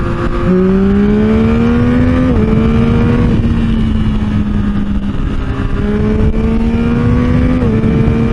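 A Yamaha MT-09 motorcycle accelerates hard in a loud, close pull, its engine note climbing steadily, dropping briefly at a gear change, then climbing again through a second shift, all under steady wind rush.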